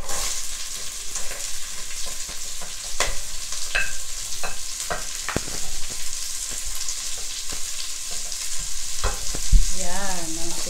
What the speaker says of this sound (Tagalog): Ilagay natin ang sibuyas.